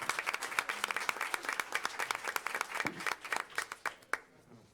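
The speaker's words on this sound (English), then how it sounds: "but how about a round of applause for his service?" An audience at a school district board meeting claps for a veteran's service, crisp individual hand claps in an uneven patter that thins out and stops abruptly near the end.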